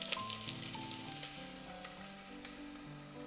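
Finely chopped onion fries in hot coconut oil for a Kerala-style chicken stew, a soft, continuous sizzle with faint stirring clicks beneath quiet background music.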